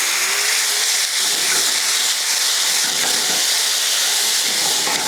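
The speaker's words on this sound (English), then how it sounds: "fry your onions and your curry leaves back into the frying pan with a little bit of water" A loud, continuous sizzling hiss fills the clip without pause, onions and curry leaves frying hard in a hot frying pan with a little added water.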